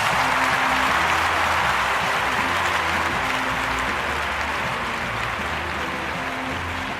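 Steady applause from an enthusiastic stadium crowd cheering an archer after a strong end in the London 2012 Olympic video game, a dense, continuous wash of clapping that holds at an even level throughout.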